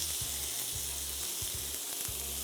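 Glazed pork tenderloin sizzles steadily in a hot pan, a continuous bright frying hiss with small pops and crackles running throughout, close and fairly loud with no one speaking.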